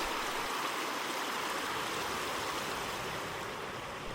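Creek water flowing through Sheep River Canyon, a soft, steady rushing and babbling wash heard from close by, continuous and fairly quiet.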